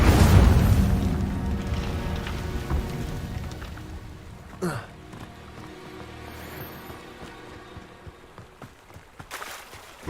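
An Incendio fire spell cast in Hogwarts Legacy bursts out as a loud booming whoosh that fades over a few seconds into crackling, rain-like fizzing, with a few small pops near the end.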